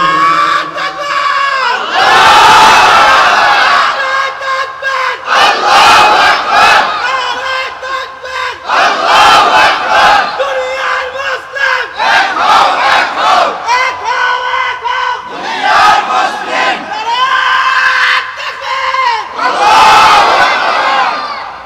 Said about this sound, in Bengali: জোরে তাকবীর দেন তো দেখি।